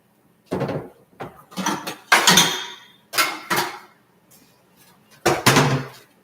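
A metal lid is set onto a skillet where an egg is cooking, giving several sharp clanks and rattles in separate bursts with short quiet gaps between them, close and fairly loud.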